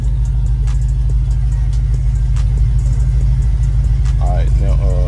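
A car engine rumbles and revs steadily up close during a tire-spinning burnout, a constant heavy drone with occasional clicks, while a person talks briefly near the end.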